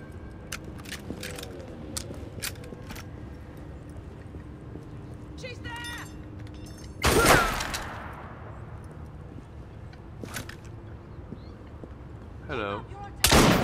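Gunfire in Assassin's Creed Syndicate's World War I setting, with scattered sharp shots and a couple of loud booming blasts, heard close over game ambience and occasional voices.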